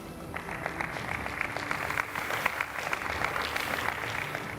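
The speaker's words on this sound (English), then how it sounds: "a big applause for him" Audience applause at the France Grand Master padel final awards ceremony, a steady wash of clapping across a large crowd, moderately loud and continuous throughout.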